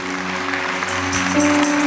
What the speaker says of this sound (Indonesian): Boleh berikan tepuk tangan buat Tuhan